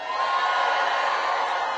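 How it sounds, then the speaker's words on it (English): A fired-up crowd at a Donald Trump rally in Macon, Georgia roars steadily, a dense, sustained wall of cheering and whooping filling the hall without letting up. "What an amazing fired up crowd."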